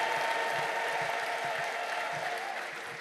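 A church congregation claps together in a dense, steady burst of applause that fades slightly toward the end, with crowd voices mixed into the clapping.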